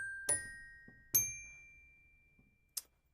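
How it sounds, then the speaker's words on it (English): A hip-hop beat's bell melody: a few bright, ringing bell notes struck one after another at a relaxed pace, each decaying slowly, heard alone and close. "So here's the bell melody."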